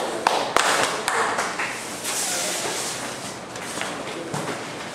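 Applause from a university audience at ESPOL after a student large-format poster presentation, a dense, steady crowd clapping that swells after a couple of sharp early claps and carries on at an even level.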